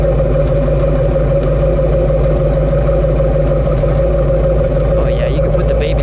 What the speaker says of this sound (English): Now let's listen to that exhaust note.